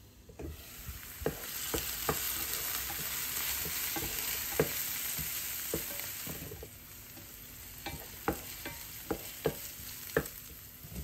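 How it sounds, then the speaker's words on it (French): Finely chopped onion fries in a pan until golden, a low continuous sizzle broken by repeated sharp clicks and taps of a utensil stirring against the pan, with no voices. "J'y ajoute ensuite un oignon haché finement et je fais revenir jusqu'à ce que les oignons soient bien dorés."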